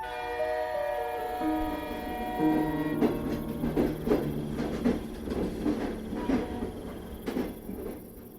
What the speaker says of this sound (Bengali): এরই মধ্যে হুইসেল মেরে একটা লোকাল ট্রেন এসে দাঁড়ালো এই মধুপুর স্টেশনে।